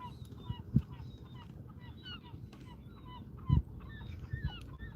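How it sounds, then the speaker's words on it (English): A pair of seagulls call repeatedly with short, squawking cries at moderate distance over open water during a fishing outing, with a low rumble and a few bumps underneath. "That's a married couple of seagulls."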